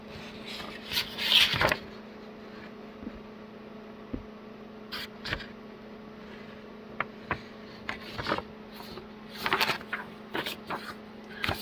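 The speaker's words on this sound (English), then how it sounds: "It was a pretty picture before I ruined it with all my scratching and scribbling." Scratching and scribbling on a picture, with short bursts of rubbing and scraping separated by pauses over a low steady mains hum, fairly quiet and close.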